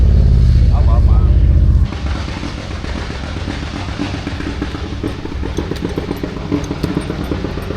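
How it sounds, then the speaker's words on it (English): Harley motorcycle engines rumble and rev at Beach Bend Raceway drag racing, a loud low roar that drops back to a busy clattering idle with crowd noise and people talking. "Hear them motors?"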